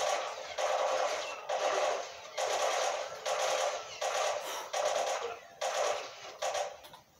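Gunfire in The Last of Us, heard as rhythmic bursts of rapid shots repeating in roughly even clusters at moderate loudness, with a voice faintly present underneath.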